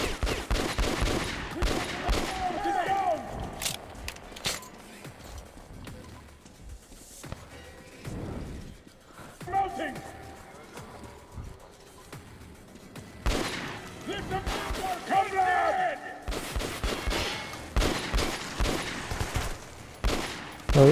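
Gunfire in Metro Last Light Redux comes in repeated bursts of sharp shots clustered in several volleys, with quieter gaps between them and someone talking at times.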